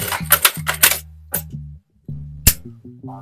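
A sewing machine stitches fabric for a collar in short bursts, a humming motor with rapid clicking needle strokes, broken by brief pauses and a few isolated clacks.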